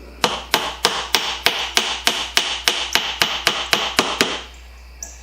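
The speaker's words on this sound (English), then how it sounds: "this nail hammer would work better" A hammer drives nails with sharp, evenly spaced strikes, about fifteen blows in quick steady rhythm, loud and close, then a last faint tap.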